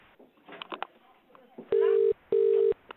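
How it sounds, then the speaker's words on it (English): A telephone in a care home rings out on an outgoing call: two long, loud, steady tone bursts follow a moment of faint speech. "Now it's dialing out."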